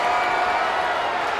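A wrestling arena crowd in WWE 2K24 roars during a Fatal 4 Way Extreme Rules match for the WWE Championship, a loud, dense wash of cheering that holds steady throughout.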